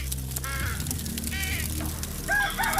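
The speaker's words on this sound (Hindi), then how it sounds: "लेकिन मुर्गी ने जोर जोर से चिल्लाना शुरू कर दिया।" A hen squawks loudly in repeated harsh bursts, close by, over a busy background with other noises.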